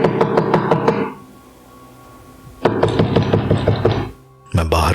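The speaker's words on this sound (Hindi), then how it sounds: "अचानक से बाहर गेट में किसी के खटखटाने की आवाज आती है।" Knocking on a gate outside at night: two bursts of rapid, loud knocks close by, separated by a quiet pause, with a third burst beginning at the end.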